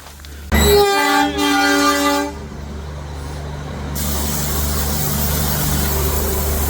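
A loud train horn blares for about two seconds, then a steady rumbling roar of a passing train on the Matheran hill railway fills the rest, with no voices.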